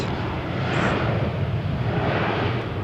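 A Jet2 airliner bound for Newcastle takes off from runway 13 at Malaga Airport on a stormy morning, giving a steady, loud broadband engine roar that holds evenly throughout without voices.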